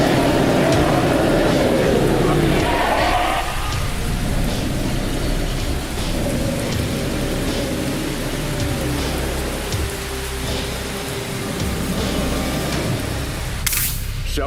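Anime rain shower with thunder: steady dense rainfall throughout, low rumbling thunder rolling early and again near the end, plus a sharp crack-like burst at the close, fairly loud with no speech.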